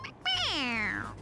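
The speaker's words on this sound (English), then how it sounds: "It meows when you press on its head." Stuffed toy cat from Persona 5 Royal giving one long, clear meow when squeezed, its pitch gliding downward over about a second, close and loud.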